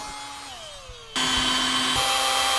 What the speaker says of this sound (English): now we're just going to drill the hole for the plastic wall hangers